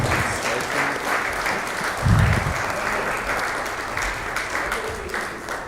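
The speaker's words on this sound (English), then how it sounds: "Let's give a big round of applause to him." A crowd at an awards ceremony claps in sustained applause, steady and fairly loud, with a few voices mixed into the clapping.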